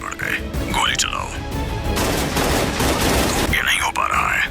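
Rapid video-game gunfire rattles in a dense burst, surrounded by strange warbling, squealing creature noises; no words spoken.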